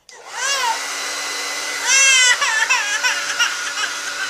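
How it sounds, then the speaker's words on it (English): A hair dryer blows with a steady whirring drone while a baby cries in rising, wavering wails over it. The crying swells loudest partway through, then breaks into shorter sobs. "It's just a hair dryer."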